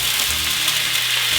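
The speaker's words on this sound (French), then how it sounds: "un peu d'eau, on déglace, jus de bleuet" Water and blueberry juice hit a hot pan to deglaze it, raising a loud, dense sizzle that holds steady and close throughout the short burst.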